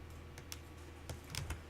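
Computer keyboard key presses and mouse clicks while working in image-editing software, a few quiet scattered clicks over a steady low hum with no talking.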